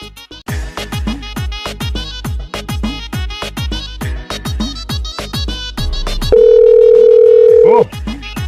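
A steady electronic telephone busy tone holds for about a second and a half, following a stretch of music and voices.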